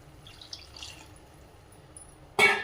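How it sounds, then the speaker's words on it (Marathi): Hot water is poured into simmering paneer and green pea gravy, arriving as a short, loud splashing burst near the end after a few seconds of faint kitchen background and soft drips. "तर त्यामध्ये टाकून घेऊया गरम पाणी"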